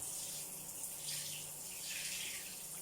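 Tap water running steadily into a 4,500-watt electric water heater, a soft continuous hiss of flowing water at low level, no talk.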